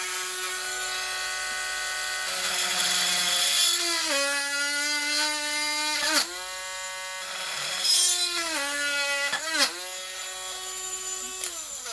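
A high-pitched Dremel rotary tool whines steadily while drilling holes in a taxidermy bird base, its pitch dipping and rising several times as it bites into the material, loud and close.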